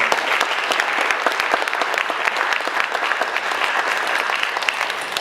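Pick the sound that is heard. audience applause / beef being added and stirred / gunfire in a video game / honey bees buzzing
audience applause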